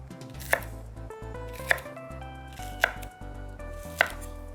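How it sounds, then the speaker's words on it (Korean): Eggplant being cut into large chunks with a knife gives four crisp, evenly spaced chops on a cutting board over soft background music, close and clear with no talk. "큼직큼직하게 가지를 좀 이렇게 썰어주시고"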